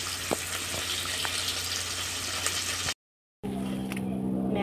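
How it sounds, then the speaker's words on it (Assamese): Fish frying in hot oil in a wok, a steady dense sizzle and crackle close by, broken by a short silent gap before the frying resumes a little quieter. "এয়া মাছকেইটা ফ্ৰাই কৰি আছোঁ"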